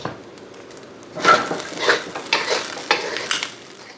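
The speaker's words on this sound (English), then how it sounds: "If you see your ingredients getting stuck to the wok, add a little oil to the wok." Crab fried rice being stir-fried in a wok, Thai style: after a quiet start, loud sizzling bursts up close with repeated scraping tosses of a spatula against the metal pan, in an uneven rhythm with no talking.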